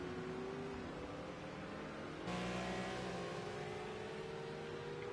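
Ferrari race car from Project CARS 2 at the Dubai circuit, its engine droning steadily with rising harmonic pitch lines, growing louder partway through as the car closes in on a rival.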